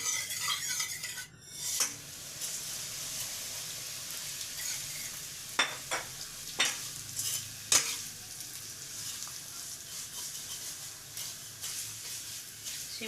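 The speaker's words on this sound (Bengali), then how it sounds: "এবার ঘি দিয়ে সিমুইটা ভেজে নেব" Vermicelli frying in ghee in a pan for a milk vermicelli pudding, giving a steady close sizzle broken by several sharp spoon clinks and scrapes against the pan.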